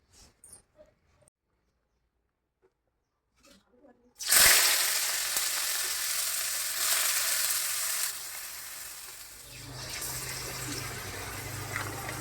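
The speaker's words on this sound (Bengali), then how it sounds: "তারপর কিসমিস কাজু সব রেডি এখন এখানে ভাজবো" Raisins and cashews hit a hot pan and burst into loud sizzling after a few quiet seconds, then keep up a steady frying hiss that shifts slightly in tone toward the end.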